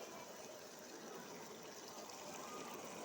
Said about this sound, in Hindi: अब मैं इसमें 1 गिलास पानी का ऐड कर दूंगी